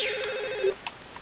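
An electronic phone ring from The Sims Bustin Out, one trilling burst that cuts off abruptly, followed by a couple of faint soft blips.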